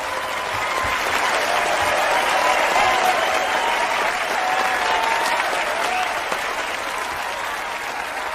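Studio audience at a television talk show applauds a guest's entrance, a loud, dense wash of clapping with some crowd noise that holds steady throughout, swelling slightly midway before easing.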